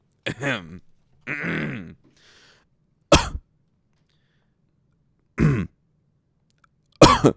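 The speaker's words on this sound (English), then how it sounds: "It's important to clear your throat." A man clears his throat in several separate rough bursts spaced by silence, close and dry, on a comedy podcast, with gravelly grunting rasps.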